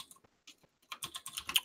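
Rapid clattering keystrokes on a computer keyboard during a programming and debugging session, starting sparse and faint, then building into a dense, steady run of close typing with no talk.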